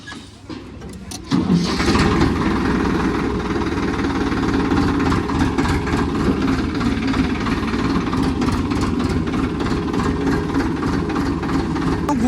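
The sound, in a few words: tractor engine running while being parked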